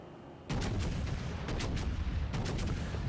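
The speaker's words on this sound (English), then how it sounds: "And I fire off 3 turrets as they come into focus." Several naval gun turrets fire in World of Warships Legends, a loud booming salvo starting after a brief lull and rolling on with repeated heavy blasts throughout.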